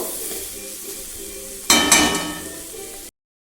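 Goat liver frying in a pan with onion, garlic and tomato, a steady sizzle that swells into a louder burst of spatula scraping and stirring before stopping suddenly.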